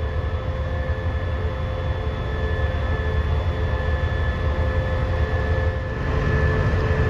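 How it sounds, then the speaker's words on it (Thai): Eastern line passenger train 277 to Kabin Buri departs Bangkok's Hua Lamphong station, a steady low diesel engine drone with a sustained mechanical hum and rail rumble, constant and fairly close. "ก็เป็นขบวนรถไฟสายตะวันออกนะครับ"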